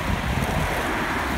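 A gust of wind buffeting the microphone outdoors, a brief broadband rush of noise at moderate level, no voices.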